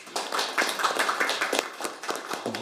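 Audience at a seminar on delayed post-war PTSD and veterans' policy gives a burst of applause, many hands clapping steadily and fairly close, fading near the end.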